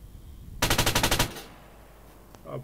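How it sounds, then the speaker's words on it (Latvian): Automatic weapon fire in the military video game Arma, a rapid burst of about ten loud, close shots lasting under a second, followed by quiet and a faint sound at the end. "Es šauju."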